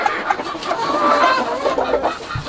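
Hens on a farm cluck and murmur in a steady, close stream of short calls, with a brief low thump near the end.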